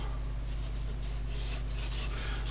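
Blade trimming excess wallpaper from a craft background, a steady soft rasping scrape that continues evenly for a couple of seconds over a constant low hum, with no voices.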